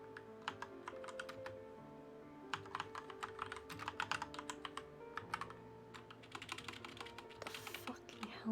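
Rapid clicky typing on a computer keyboard, close and fairly quiet, in uneven bursts with brief pauses between words.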